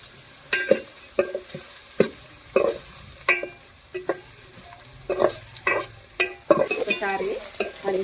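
Onions frying with cumin in hot oil, stirred briskly, giving a soft sizzle under repeated sharp scrapes and clatters of a spoon against the pan, quickening toward the end.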